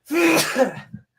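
A single close, sharp human sneeze with a quick intake and forceful burst, trailing off into a soft breathy after-sound.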